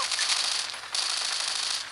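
Rapid gunfire from Call of Duty Mobile gameplay, a dense crackling burst that stops briefly near the midpoint and then resumes, loud and steady with no talk.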